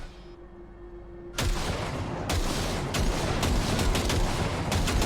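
Gunshots fired at targets in the video game Cyberpunk 2077, loud cracks in quick succession after a quiet start, one shot landing right after another over a dense, echoing wash.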